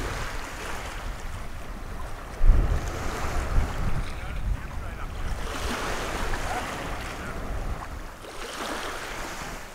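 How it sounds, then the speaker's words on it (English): Sea breeze and waves on an ocean shore in a large archipelago, a continuous windy rush with surf swelling and receding, one louder wash of water about a quarter of the way in. "There's a nice sea breeze"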